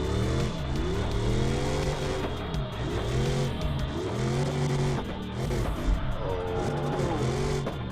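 A race car revs hard while drifting in a video game, its engine note rising and falling in continuous loud sweeps with tire squeal, no pauses throughout.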